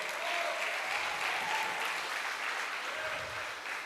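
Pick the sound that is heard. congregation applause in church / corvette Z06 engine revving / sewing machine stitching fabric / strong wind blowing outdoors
congregation applause in church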